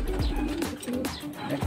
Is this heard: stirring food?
no